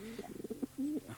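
A pigeon coos softly indoors, giving a short run of quick low throaty notes followed by one longer drawn-out coo, close and quiet, with no talking over it.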